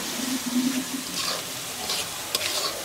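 Poultry meat cooks in a pan with a fairly quiet, steady sizzle and a few light stirring clinks over a faint watery hiss, no speech.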